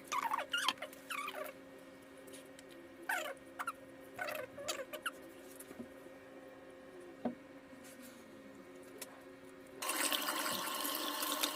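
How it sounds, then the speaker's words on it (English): A removed washing machine drain filter is handled with intermittent knocks and squeaky scrapes, then a tap opens near the end and running water pours steadily over it. "Now you're going to want to run this under some water and clean it off."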